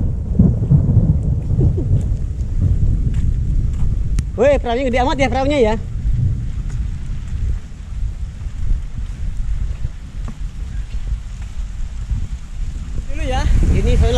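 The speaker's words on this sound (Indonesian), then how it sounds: "Ini soalnya lagi hujan terus, guys." Steady rain hiss with low rumbling thunder under people talking, with a brief sung or wavering voice in the middle and again near the end.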